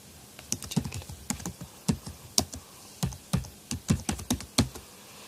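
Typing a command on a computer keyboard, with crisp individual key clicks in uneven bursts, close and clear with no talk.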